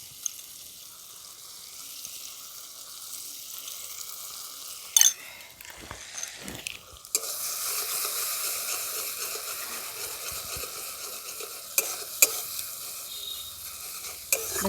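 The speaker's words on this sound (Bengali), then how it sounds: "দেখুন সমস্ত মশলাগুলো আমার ভালো করে কষানো হয়ে গেছে" Ground spices and sour yogurt are stirred and fried in a pan for a Bengali rohu-with-poppy-seed curry, giving a soft continuous sizzle with scraping spoon strokes and occasional sharper clinks.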